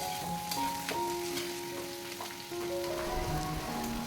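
Food fries and sizzles in a pan while being stirred during home cooking, a steady crackling hiss with occasional scraping, heard without speech over faint tonal sounds in the background.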